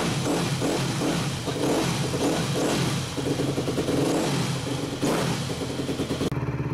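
A Yamaha YZ250F dirt bike engine, cold-started, sputters and catches, then runs roughly with uneven revving pulses and mechanical clatter close by.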